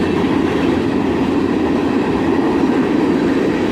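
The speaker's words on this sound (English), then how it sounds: "A CSX ore train at sunset, led by an ES44 ACH." Loud, unbroken rolling roar of a short CSX ore train behind an ES44AC locomotive, heard up close as the cars pass, with no talking.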